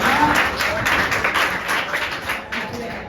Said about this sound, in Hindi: इनके नाम पे ताली बजा दीजिए सब लोग, नीचे बजाओ।